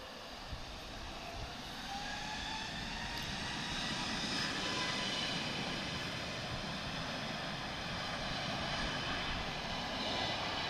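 An A330 departing Lisbon Airport gives off a broad, steady roar that swells and holds as it climbs out, distant but filling the background, with no talk over it.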